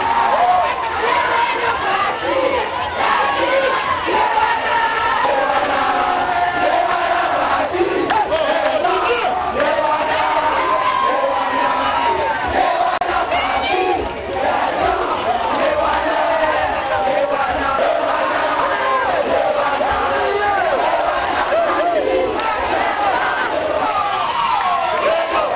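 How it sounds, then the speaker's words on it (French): A jubilant crowd greeting Félix Tshisekedi, DRC presidential candidate number 20, chants and shouts in dense, continuous unison, loud and close throughout with no pauses. "la foule en liesse qui l'attendait, scandant des chants"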